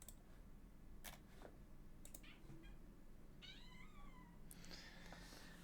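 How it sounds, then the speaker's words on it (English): A pet cat gives a short, clear meow partway through, fairly close, over a steady background hum with scattered clicks and ticks. "My cat."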